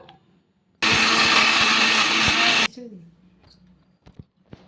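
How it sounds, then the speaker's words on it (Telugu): Mixer grinder blending cut bottle gourd pieces in a jar, a loud motor whine running about two seconds, then stopping, with faint handling sounds after. "ఇలా పీసెస్లా కట్ చేసుకున్న దాన్ని ఒక మిక్సీ జార్లోకి అయితే వేసుకోవాలి వేసుకొని మిక్సీ పట్టేసుకుందాము"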